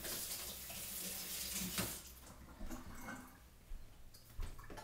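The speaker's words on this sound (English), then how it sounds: "Rinse my hands." Hands rinsed under a running kitchen tap, a steady close wash of water with soft splashing that shifts as the hands move through the stream, no voices.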